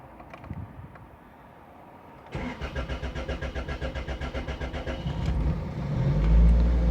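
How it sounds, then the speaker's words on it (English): Toyota Celica engine cranking at length while priming its fuel system, with a steady rhythmic starter churn before the engine catches and fires up, growing louder and rumbling at the end; close and alone, no talking. "So I'm going to go ahead and start the engine real quick for you guys."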